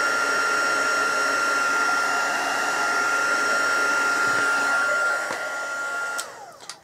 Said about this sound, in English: so that's me finished with our heat gun. Again, it's the Stampin' Up one